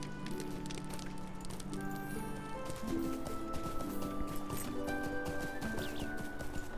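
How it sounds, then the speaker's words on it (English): Horse hooves clip-clop in Lord of the Rings Online, a rhythmic string of hoof strikes running under a layered game soundtrack of sustained music tones. "Oh, wait, there's a horse I can get."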